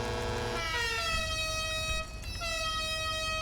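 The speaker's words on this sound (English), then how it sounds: "I'll do an air horn" Multi-tone air horn on a customized Declasse Drift Tampa in GTA Online, blaring in two long sustained blasts with a short break between, loud and steady.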